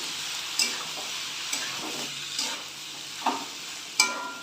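Ginger sizzles in a hot pan while a spoon stirs it. The frying hiss is steady, and five sharp scraping clinks of the utensil against the pan fall at roughly regular intervals.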